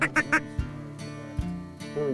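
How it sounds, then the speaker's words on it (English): Ducks quack out in a field during a hunt, with a quick burst of short nasal calls at the start, then scattered single quacks at a moderate distance. "Yeah, there's some ducks out there."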